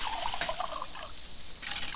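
Water pouring in the video game Lakeview Cabin, a soft, fairly quiet trickle and splash that runs steadily for about two seconds with no voices over it.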